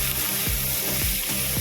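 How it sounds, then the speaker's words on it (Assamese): Chilli chicken frying over a high flame gives a steady, loud sizzle with faint periodic stirring scrapes, and no voices are heard. "এইখিনি এতিয়া হাই ফ্লেমত কিছুমান ভাজিম।"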